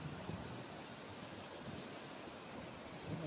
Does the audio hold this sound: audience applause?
no